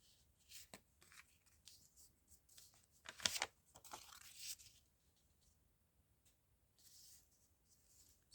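Crinkly coffee-dyed diary paper being handled and pressed flat for a junk journal, with soft rustles, a burst of crunching and crinkling in the middle, then quieter scattered rubbing, close and gentle.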